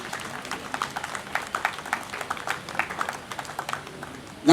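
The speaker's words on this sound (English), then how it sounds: "a round of applause for our chairman of this occasion" Scattered audience clapping at a formal Asante traditional ceremony welcoming the chairman, a Paramount Chief, with uneven, moderately distant claps repeating throughout and a faint murmur of voices underneath.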